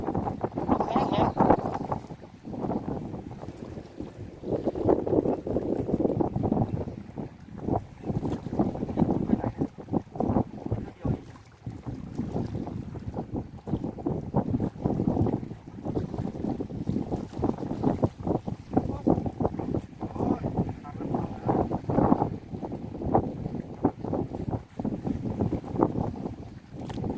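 Strong gusty wind buffets the microphone at a natural seaside fishing pond in Samut Sakhon, rising and falling in loud rushes throughout, with voices talking now and then.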